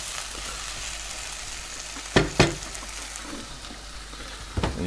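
Gentle sizzling of chopped ginger and garlic frying in oil, a steady hiss broken by a few sharp clatters of stirring.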